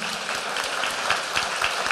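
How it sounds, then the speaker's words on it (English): Audience applause at a senior citizen pageant, steady dense clapping filling the room for two seconds at moderate volume. "How about a big round of applause for our court"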